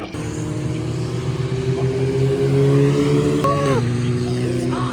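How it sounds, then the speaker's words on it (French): Several race car engines drone at once with steady harmonic tones at the GP Explorer 3 race, then the pitch dips as cars pass by at moderate distance. "Le deuxième groupe est parti, on entend les moteurs là"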